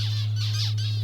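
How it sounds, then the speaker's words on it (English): Three quick, nasal squawking zebra finch calls in succession, close and clear, over a constant low electrical hum, in outback South Australia. "zebra finches are energetic, highly social small birds"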